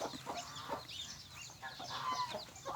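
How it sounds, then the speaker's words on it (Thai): Rapid, high-pitched peeping and cheeping from several ducklings close by, overlapping and continuous. "โอ้ลูกเป็ด"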